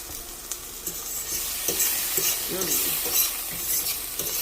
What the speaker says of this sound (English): Add it to the pot on top of the tomatoes. Saute these for like about 3 minutes